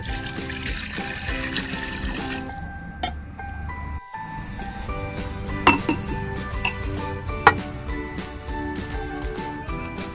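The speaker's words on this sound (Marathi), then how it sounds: "कुकरमध्ये 1 ग्लास पाणी टाकूया" Water is poured into a pressure cooker in a home kitchen for cooking dal, a close trickling pour with clinks of metal pots and utensils around it.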